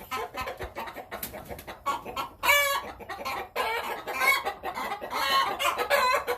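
Farmyard chickens cluck and squawk close by in a busy, overlapping chorus, with a rooster crowing loudly several times through the flock.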